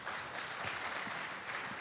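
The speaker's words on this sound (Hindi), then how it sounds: "ये मुझे लग रहा है कि आपकी तालियां कमज़ोर हैं" Audience applause at a Hindi poetry and talk event, a steady, dense wash of clapping that holds at a moderate level throughout without pauses.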